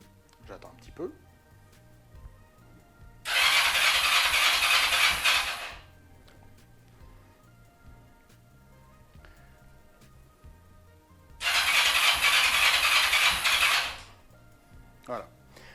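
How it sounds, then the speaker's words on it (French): A Kawasaki ER-5 motorcycle's electric starter cranks the engine after winter storage, its carburetor bowls empty so it does not fire. There are two cranking bursts of about two and a half seconds each, with someone talking around them. "on peut se permettre de redémarrer un petit peu plus rapidement, de relancer le démarreur un peu plus rapidement"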